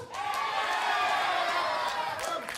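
Wrestling event crowd cheering and hollering at a beer-themed pro wrestling show, a dense sustained roar of many voices that swells and holds for a couple of seconds.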